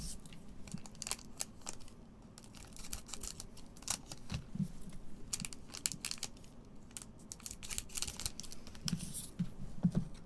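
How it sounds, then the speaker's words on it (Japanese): Scissors snip open trading card packs at a tabletop, with sharp cutting clicks and rustling foil wrappers scattered irregularly over ten seconds, close and fairly quiet, no voices. "ハサミでパックを切ってからカードチェックです"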